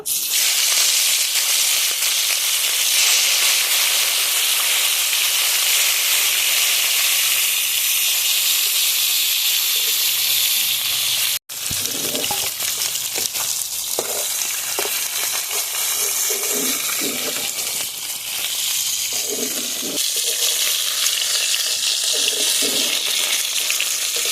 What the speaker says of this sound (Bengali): তেলটা গরম হয়ে গেছে এখন আমি মাছগুলো দিয়ে ভেজে নেব